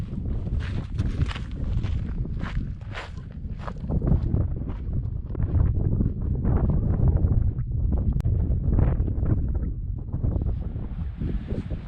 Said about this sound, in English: It started getting pretty windy up here